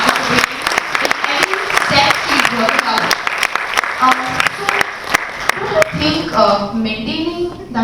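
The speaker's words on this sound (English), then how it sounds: "I would ask the crowd to please clap for this statement" Audience applause fills a live interview session, dense clapping running throughout with talk mixed in and other sounds rising near the end.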